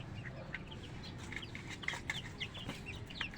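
Backyard chickens, laying hens, cluck in scattered short calls at moderate distance over a steady outdoor background.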